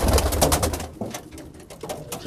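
Pigeons coo close by in a loft holding homing pigeons and squabs, giving soft repeated throaty calls over a busy, rustling background with no talk.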